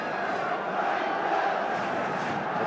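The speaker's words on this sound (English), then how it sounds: "With the crowd getting behind them." Dense, steady crowd roar fills a 1977 English football stadium as supporters get behind QPR awaiting a free kick, a broad continuous wash of voices with no commentary over it.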